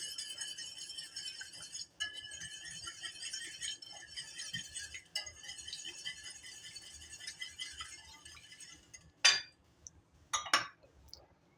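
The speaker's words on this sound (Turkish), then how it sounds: "Bir adet yumurtamı. Birazcık çırpıyorum." An egg being whisked in a bowl for a savory sauce, a quick run of light metallic clinking and tapping that stops after several seconds, followed by a few isolated louder clinks, close and fairly quiet.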